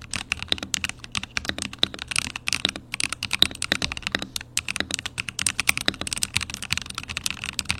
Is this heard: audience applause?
no